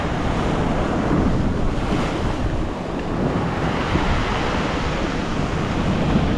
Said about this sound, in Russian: Вот это идет волна